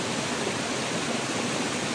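A river rushes steadily past, a dense, continuous hiss of moving water heard close and evenly throughout, with no voices.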